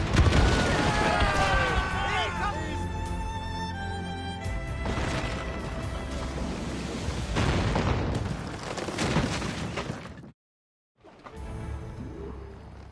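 Ship cannons fire broadside volleys in the naval game Assassin's Creed Rogue, a run of loud booms and crashes over a busy battle mix with music, cutting to a brief silence before the action resumes.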